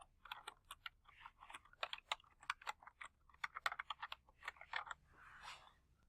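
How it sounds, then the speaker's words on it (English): Computer keyboard typing, a quick, close run of light key clicks in uneven bursts, fairly quiet and without speech. "If you'd like to view the results of your profile, we'll type something in here."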